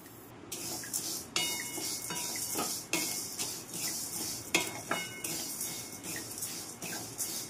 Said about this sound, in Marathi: मुगाची डाळ आता भाजून घेणार आहोत आपण